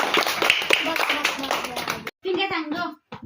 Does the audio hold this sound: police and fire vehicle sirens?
no